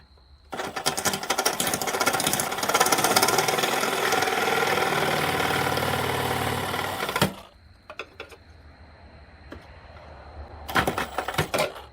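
A large Sawzall reciprocating saw cuts a hole during a headlight lens upgrade on a 1997 Ford Mustang in a garage, a loud rattling buzz for about seven seconds, then stopping, with shorter bursts near the end.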